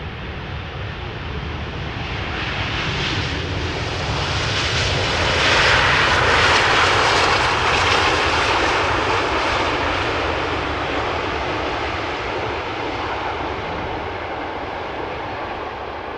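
Boeing 747 jet airliner landing at Amsterdam Schiphol Airport: a long, broad roar that swells as the jet passes overhead around the middle, then slowly fades into a steady distant rumble, with no voices.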